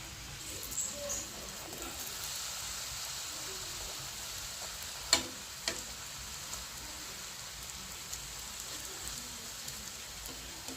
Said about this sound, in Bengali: তাই কম করেই লুচি ভাজছি